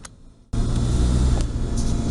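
A used car pulls off on a road test: after a brief quiet moment, a steady, loud engine and road rumble kicks in abruptly and holds, with no talking.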